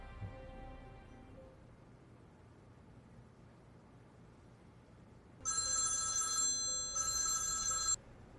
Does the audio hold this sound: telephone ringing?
yes